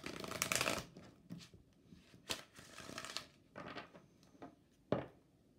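Tarot cards shuffled in quick riffling bursts, with a few separate snaps and slides as single cards are pulled and laid down, close and fairly quiet with pauses between.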